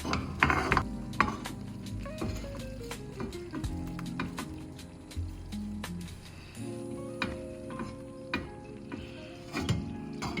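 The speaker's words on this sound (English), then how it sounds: "Give that a stir, and then we're gonna add in our mushrooms" A spoon stirs beef bourguignon in a pot, with scraping and knocking clatters at the start and end, soft rustling and bubbling between, and no talking.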